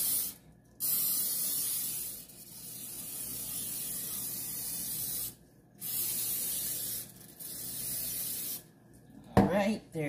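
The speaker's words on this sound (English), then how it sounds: "now I'm just gonna go ahead and spray my 8 by 8 inch baking pan" Cooking spray hisses onto an 8 by 8 inch baking pan in several close bursts, each a few seconds long with short pauses between, and a brief clatter near the end.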